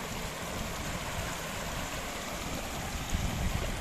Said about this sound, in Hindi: बहुत पानी आ रहा है